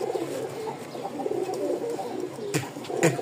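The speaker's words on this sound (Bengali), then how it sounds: "এই কবুতর, এই যে সামনের এটা হচ্ছে নর, পিছেরটা মাদি" A mated pair of dark chocolate- or coffee-coloured homing pigeons coo softly and repeatedly at close range, low throaty calls over faint background noise.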